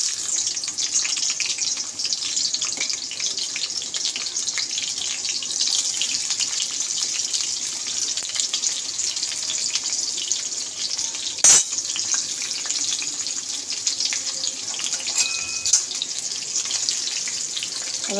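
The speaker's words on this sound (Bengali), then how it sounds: "তেলটা গরম হয়ে যাক, তারপরে পেঁয়াজগুলো দেব।" Onions frying in hot oil in a home kitchen, a steady, close sizzling hiss that holds evenly throughout, with one brief sharp clatter partway through and no talking.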